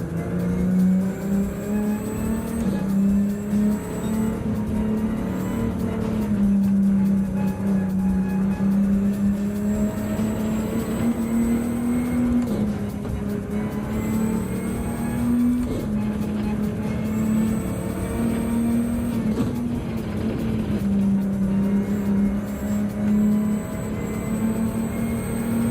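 Race car engine in Gran Turismo 7 at the Nürburgring 24-hour circuit, holding a steady loud drone that rises and dips as the car shifts and brakes through corners, running continuously for the whole stretch.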